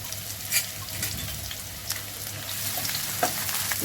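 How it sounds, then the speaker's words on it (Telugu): Onions fry in hot oil for egg biryani, giving a steady close sizzle with occasional stirring clatters and spatters. No one speaks. "ఇప్పుడు ఎసరు ఆయిల్ కాగింది వేసేసుకున్నాను వేసుకుని వేయించుకోవడమే"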